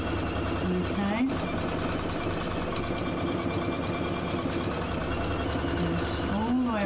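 A sewing machine runs steadily, stitching a curved seam around a fabric glasses case, its rapid mechanical whir continuous and close throughout with a few pitch shifts as the speed changes.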